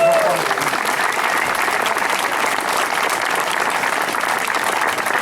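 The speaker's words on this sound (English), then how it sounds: "give a big round of applause" A big round of applause from an audience, dense and sustained clapping at an even level with a voice briefly at the start.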